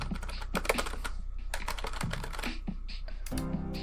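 Login password being typed on a computer keyboard, a quick close run of irregular clacking keystrokes with a brief pause, no voices.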